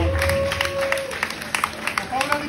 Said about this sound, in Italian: Ma un applauso per le luci